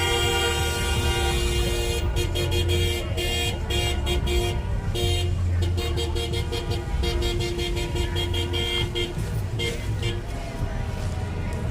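Cars in traffic at a street protest in Louisville, Kentucky, with horns honking repeatedly in short bursts and longer toots over a steady road rumble, close and loud throughout.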